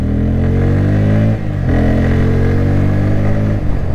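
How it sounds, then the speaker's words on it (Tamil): A Bajaj Pulsar N160 motorcycle accelerates on a highway, its engine note rising steadily through the gears, loud and close, with a brief dip at a gear change before it climbs again. "ஸோ அந்த இனிஷியல் பிக்கப்பு உங்களுக்கு பார்த்தாலே தெரியும் வண்டி எந்த அளவுக்கு பிக்கப்பில் இருக்குங்கிறது"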